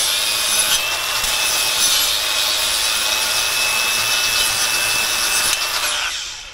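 A Scotch-Brite abrasive disc on a power tool scours pitting off a metal belt, making a loud, continuous, close-up grinding hiss with a steady whine, running unbroken before spinning down at the end.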